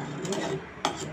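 A ladle scrapes and stirs through mung beans simmering in a pot, with soft clinks against the pot, brief and close.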